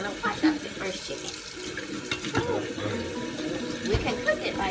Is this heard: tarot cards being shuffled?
no